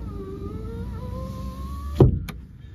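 Power window on a Hyundai Grand i10 Nios running: a steady electric motor whine for about two seconds, then a sharp thump as the glass stops, with a faint click after.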